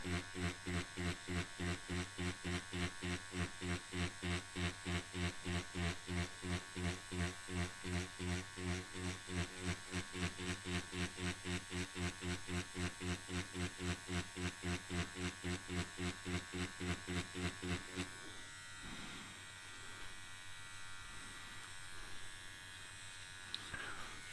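Ambition Soldier Max tattoo machine with a 4.0 mm stroke running steadily, a loud close electric buzz with a fast even pulse for most of the clip, then cutting to quieter low rumble and faint handling noise near the end.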